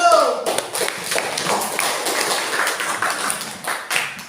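An audience in a classroom session claps in a loose, uneven burst, moderately loud, with some voices mixed in.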